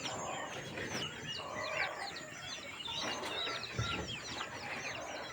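Chicks and hens in a farm coop built for rearing chicks keep up a continuous stream of high peeping and soft clucks, fairly close and steady throughout.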